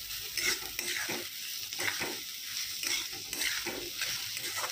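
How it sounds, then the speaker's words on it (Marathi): Chopped onion is stir-fried in a pan, a soft sizzle broken by repeated scraping strokes of a spatula at an even rhythm, close and fairly quiet. "कांदा चांगला परतून घ्यायचा"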